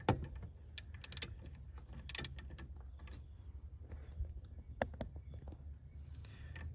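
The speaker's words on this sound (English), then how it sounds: "I'm going to start by tightening the rear bolt on the bracket, and then I'm going to work my way forward." Ratchet with a 17 mm deep socket tightening a bracket bolt on a 6.7 Cummins engine, 2007.5–2012, producing quiet, irregular clicking bursts with brief pauses and faint metallic rattles nearby, without speech.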